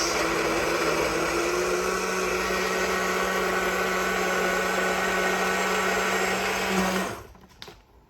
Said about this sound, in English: We're going to put it on the blender.